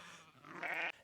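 A single sheep bleats close by, a short wavering call of about a second that cuts off abruptly, with no talk over it.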